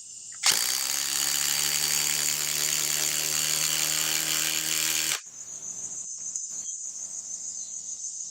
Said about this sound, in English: Let's go with the sub compact impact driver.